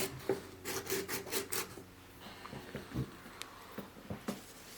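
A pencil is sharpened close by with a quick run of soft rhythmic scraping strokes, followed by quieter intermittent rubbing and faint taps.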